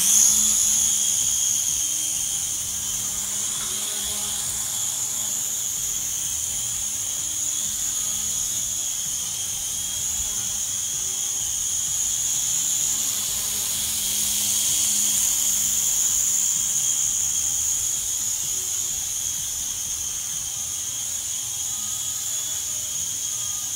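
A Nano-Falcon RC micro helicopter, about 65 mm long, flies indoors with a steady, high-pitched whine from its tiny motor and rotor that swells and fades slightly as it moves, heard alone for over twenty seconds.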